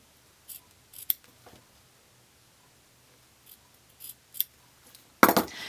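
Scissors snip along a quilt fabric edge in a few sparse, crisp cuts, quiet and close with pauses between, the last cut louder.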